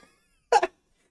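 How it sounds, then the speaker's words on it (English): A person lets out a single short burp in two quick pulses, close and abrupt, surrounded by silence. "Burp alert."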